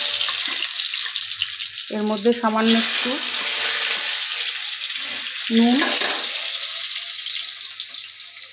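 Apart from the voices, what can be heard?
potatoes frying in hot oil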